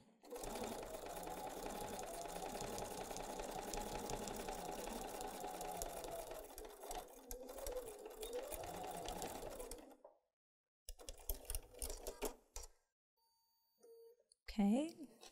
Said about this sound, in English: Let's run over to the sewing machine.